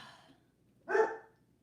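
A single short bark from a pet dog indoors, moderately close, preceded by faint breathy noise, then quiet.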